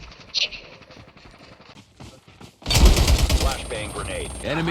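Gunfire from a shotgun rings out in a match of Call of Duty Mobile, a burst of loud, rapid shots breaking in partway through, while players talk excitedly over the game sounds.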